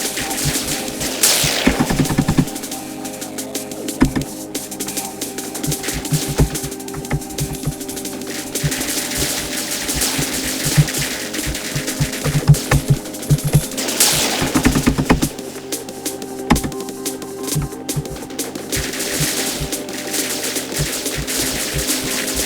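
A weapon in the video game Viricide fires at a very high rate, dense continuous bursts of rapid shots with brief sweeping whooshes, loud and steady throughout.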